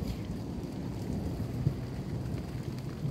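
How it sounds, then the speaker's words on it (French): Thunderstorm over a garden during bean season: steady heavy rain patter fills the scene, with a low rumble of thunder swelling midway and a fainter one near the end, no voices. "Je vous laisse apprécier l'orage."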